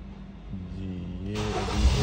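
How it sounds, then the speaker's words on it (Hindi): A 2012 Kia Sportage engine cranks and fires up close by, the starter whir rising into a steady idle over a couple of seconds. "अब हम गाड़ी इसको स्टार्ट करते हैं"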